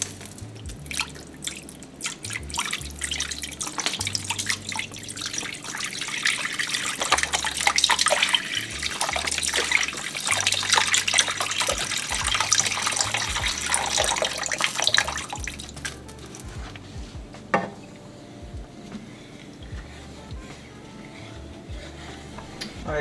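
Seafood stock, about three cups, pours into a cooking pot for brothy salmon and rice, a steady liquid splashing and trickling for roughly fifteen seconds before tapering to a few drips, with no talking.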